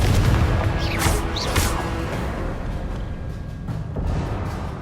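A Confringo blasting spell goes off in the Hogwarts Legacy video game, a loud booming explosion with rushing, sweeping whooshes that fade into a rumbling tail.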